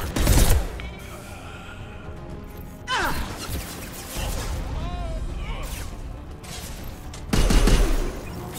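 Loud bursts of gunfire in Mass Effect 2 during a firefight, with three heavy volleys separated by quieter stretches where game voices and effects carry on.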